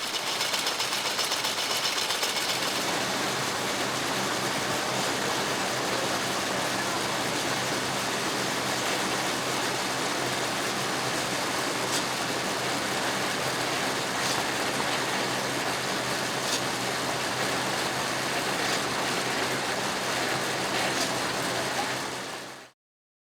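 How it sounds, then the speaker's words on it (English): A rotary jute gill drawing machine runs steadily, a dense, even mechanical whir and hiss with a fine rapid rattle, loud and unbroken until it cuts off at the end. "We are observing the drafting zone wherein the gill pins are moving in a curved path and at a faster speed"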